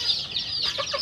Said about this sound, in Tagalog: Ayan po yung ating ano, mga sisiw.